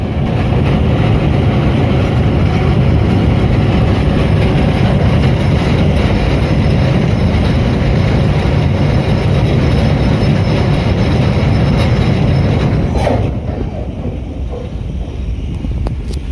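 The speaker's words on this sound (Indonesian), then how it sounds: "Rangkaian gerbong datar yang memasuki terowongan yang kedua tepat pada bagian" A flatcar work train on the Jakarta-Bandung high-speed rail line rumbles steadily and loudly as it enters a tunnel, a dense continuous roar with wind buffeting, easing slightly near the end.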